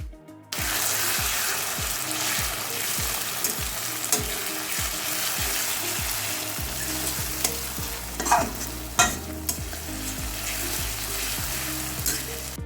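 A spatula scrapes and stirs golden-brown fried onions with green chilli paste in a pan, a rhythmic series of strokes over constant loud sizzling oil, close up, with no speech.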